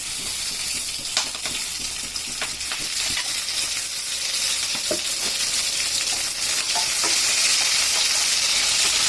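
About fifteen green chilies fry in a little oil in a home kitchen pan, a steady bright hiss and sizzle with occasional stirring clinks, close and continuous, without talk.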